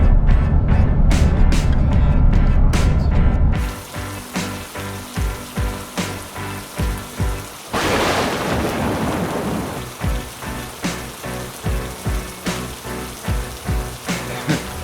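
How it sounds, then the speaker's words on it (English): Heavy evening rain pours down steadily with rumbles of thunder, a dense hiss that shifts partway through into rhythmic drumming on a surface, with a loud thunder crack near the middle and no voices. "it's pouring with rain"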